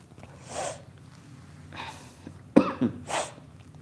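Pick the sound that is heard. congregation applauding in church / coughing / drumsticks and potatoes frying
coughing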